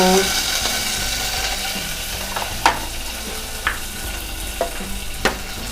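Curry leaves fry in a hot pan of oil for tamarind-leaf dal, a continuous close sizzle with a few sharp crackles and spatters popping out over it, no voices.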